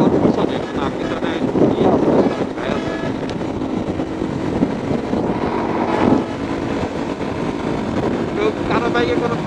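A group of motorbikes, many fitted with loud horns, rides together toward Sirajganj; a steady, loud engine roar with wind buffeting fills the whole stretch, with faint tonal horn-like notes rising now and then.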